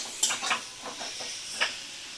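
Eggs cooked in spices in a pan, stirred with a spatula while frying down, giving soft sizzling with a few brief scraping strokes, moderately close and quiet, no voices.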